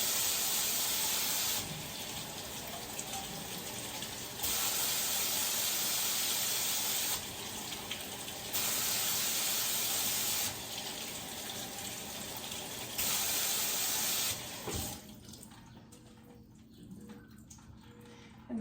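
Quinoa being rinsed in a broken-handled strainer under a kitchen tap, with steady running water that gets louder and softer in stretches as the flow changes, then stops near the end and leaves faint handling noises.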